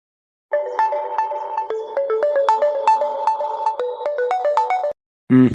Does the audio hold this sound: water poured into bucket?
no